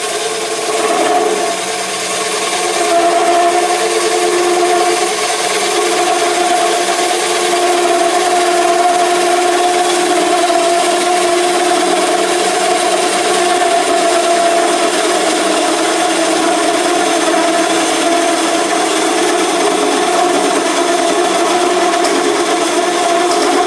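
A wood lathe cores a bowl using a Oneway Easy Core system, giving a steady, loud scraping and rumbling cut that runs continuously with no breaks and no one speaking.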